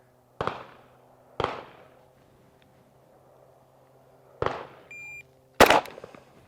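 Pistol shots during a shooting standards drill: four sharp, loud cracks spaced irregularly over several seconds, with a brief electronic timer beep between the last two.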